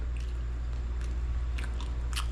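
Someone bites into crunchy pizza crust, a few crisp crackling crunches close to the ear over a steady low hum.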